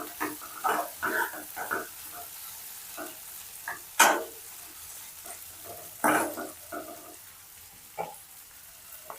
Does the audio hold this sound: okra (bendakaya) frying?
yes